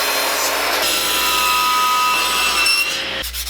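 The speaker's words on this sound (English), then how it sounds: "And then we're going to rip that on the table saw." A table saw rips a 2x4 board lengthwise for a cornhole board build, a steady, loud whining cut with a high blade tone running almost continuously, then dropping off near the end as the board clears.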